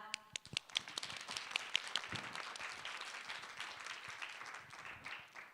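A conference audience at a climate-crisis talk breaks into applause, sharp scattered claps at first quickly merging into steady, moderately loud clapping that carries on evenly for several seconds.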